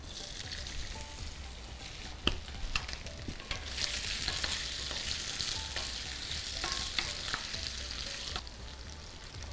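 Cubed boiled potatoes frying in a pan with roasted cumin: a continuous soft crackling sizzle with scattered stirring clicks, moderately quiet and close, with no talking.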